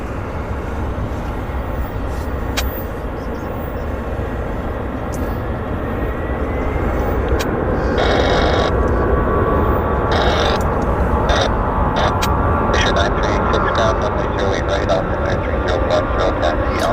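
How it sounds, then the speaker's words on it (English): A WestJet airliner arrives at Vancouver airport, heard as a steady, loud jet engine roar that swells and holds under wind and outdoor noise, with occasional clicks and brief voices nearby. "we'll go get our WestJet that's coming in from Kelowna"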